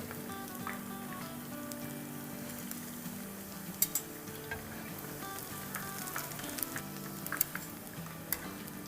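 Onion pakoras, made without gram flour, fry in hot oil with a steady close sizzle, dense crackling bubbles and a few sharper pops and spatters, no voices over it.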